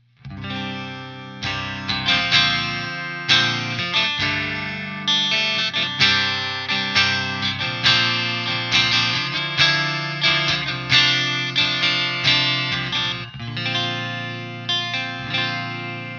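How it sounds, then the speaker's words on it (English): A Peavey 6505MH guitar amp on its green channel plays clean tones, with a steady run of strummed chords and picked notes ringing out through chorus-like effects. The playing is continuous and fairly loud, with no talk. "What we're gonna be dialing up next is gonna be the green channel on some clean tones."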